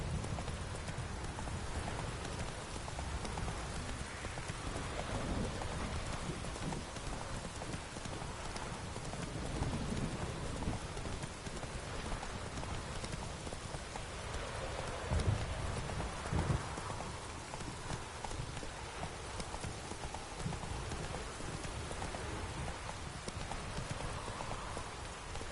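Roach, a horse in The Witcher 3, gallops through heavy rain with rapid rhythmic hoofbeats over a constant downpour hiss and a low distant rumble.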